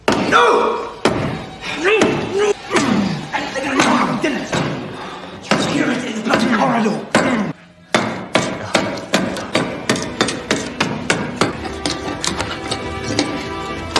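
Repeated hard blows of a chisel smashing into a wooden door frame, loud close thuds and knocks in uneven bursts, then a steadier series of sharp strikes, with voices heard between the impacts.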